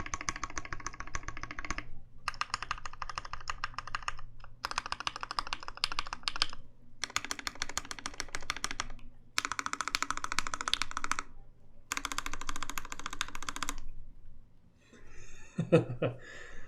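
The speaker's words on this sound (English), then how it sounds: "Sounds like a keyboard." Bursts of fast typing on a custom-built Virgo keyboard with Mauve switches, six separate runs of close, clacky keystrokes split by short silences, ending in a faint chuckle.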